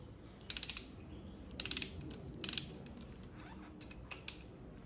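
An engine's intake valve adjustment being tightened with a ratchet on a 102mm turbo Mustang: three quick bursts of close, crisp clicking, each a rapid run of pawl ticks, followed by a few lighter isolated clicks, with no talking.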